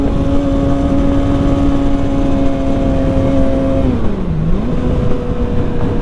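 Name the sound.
Kawasaki ZX6R motorcycle engine whine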